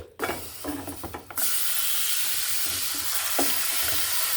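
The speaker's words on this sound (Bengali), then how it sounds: "এখানে আমি তেল ঢেলে দিচ্ছি মাংসটা আমি পাঁচ মিনিট মেখে রেখেছিলাম সেটা দিয়ে দিচ্ছি" Marinated chicken hits hot oil in a pan, after a few faint clatters, bursting into a loud, continuous sizzle and fry hiss that stays steady with a brief spike partway through.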